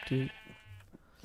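A single Minecraft sheep bleats once, short and fairly close, followed by quieter game sounds and a faint low tone.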